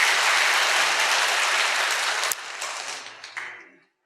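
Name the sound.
congregation applauding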